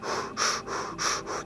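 Rapid rhythmic breathing from an energy breathing technique demonstration, about five quick breaths in a second and a half, close and fairly loud, with no talking.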